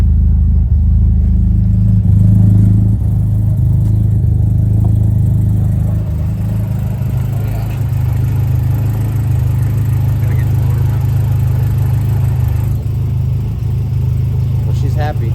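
A Nissan S13 with upgraded fuel injectors idles with a steady, loud low rumble, the engine note holding even throughout while people talk nearby.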